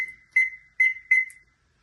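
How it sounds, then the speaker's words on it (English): A timer being set for 12 minutes during a house cleaning gives three short, clear electronic beeps in an even rhythm, close and alone with no talk. "Set the timer for 12 minutes."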